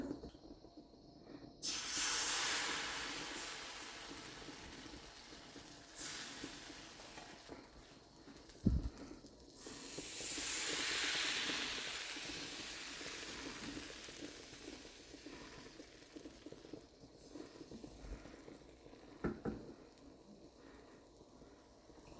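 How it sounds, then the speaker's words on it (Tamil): Egg appam batter hits a hot appam pan and hisses in a steady, fairly quiet sizzle, swelling in broad waves with a few sharp ticks and clicks, and no voices over it. "இப்போ நான் வந்து முட்டையப்பம் ஊற்ற போகிறேன்."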